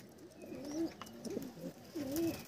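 Pigeons in a loft give a few soft, rolling coos, faint and somewhat distant against a quiet background.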